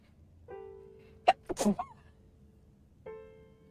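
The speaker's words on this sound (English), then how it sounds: "I need to sneeze." A video game character's single sneeze with a sharp intake and burst, set against a low sustained electronic tone that drops out and returns.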